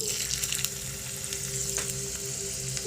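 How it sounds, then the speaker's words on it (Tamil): Chopped onion frying in a small tempering ladle, a loud, continuous sizzle close up that holds steady throughout with faint crackles on top. "இப்போ தாளிப்பு கரண்டி வச்சுருக்கேன் அதில் கொஞ்சம் வெங்காயம் போட்டுடலாம்"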